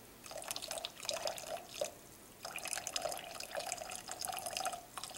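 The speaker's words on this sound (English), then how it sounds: "So now I'll try to pour it into my cup without spilling it." Brewed chaga tea is poured from a pot without a spout into a cup, giving a quiet trickling, dripping stream in two bursts with a brief pause between them.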